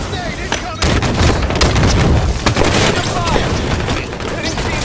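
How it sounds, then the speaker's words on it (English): Loud gunfire from a Halo 5 multiplayer match, heavy cracking shots and booming impacts rolling over one another in a dense, continuous barrage, with a voice shouting over the combat. "Sniper fire, move it!"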